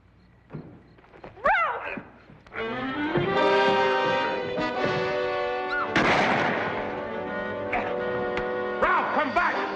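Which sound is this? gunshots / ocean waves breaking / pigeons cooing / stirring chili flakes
gunshots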